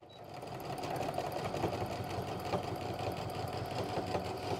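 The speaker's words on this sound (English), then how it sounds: "I'm going to back stitch just a little bit just because this can be a pretty high stress point" A domestic sewing machine runs steadily, stitching close along the edge of a pocket on pull-on pants or shorts, a continuous close-up mechanical whir with a fast even rhythm lasting the whole time, with no talking.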